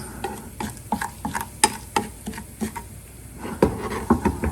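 Spices fry in heated oil while a spoon stirs them, giving a close, steady crackle broken by repeated light knocks and scrapes against the pot.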